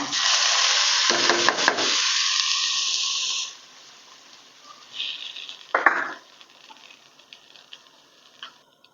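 Loud hissing sizzle as finely chopped ginger hits a hot pan for ginger-tamarind relish, dying down after a few seconds, followed by quieter stirring sounds and light scraping.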